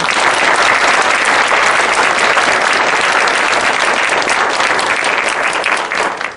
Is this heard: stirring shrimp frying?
no